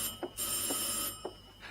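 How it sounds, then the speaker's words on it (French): Old telephone bell ringing in a 1935 film, a loud continuous metallic ring in long bursts separated by short gaps, with faint soft thuds underneath. "Ah, téléphone."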